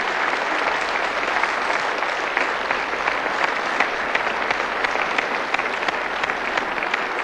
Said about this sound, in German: danke vielmals und einen herzlichen Applaus